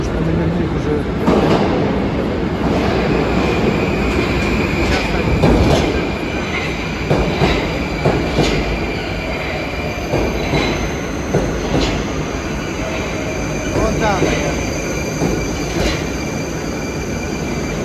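A Moscow metro train pulls in from the turnaround track on the Kaluzhsko-Rizhskaya line, a loud, steady rumble of rail cars with squealing wheels and rhythmic clicking of wheels over rail joints, while people talk nearby on the platform.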